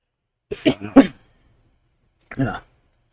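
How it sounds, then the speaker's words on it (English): Two close coughs: a rough double burst, then a single shorter cough about a second later, with silence between. "I am still coughing a tiny bit"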